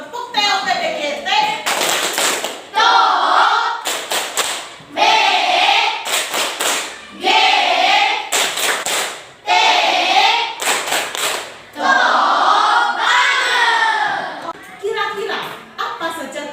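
A primary school class performs a rhythmic clapping chant led by a teacher, with bursts of group clapping alternating with chanted voices in a repeating pattern, loud and close.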